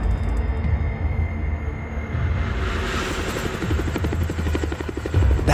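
A helicopter's rotor thumps steadily and loudly close by, a continuous chopping drone with a rushing whine over it, and nobody talking.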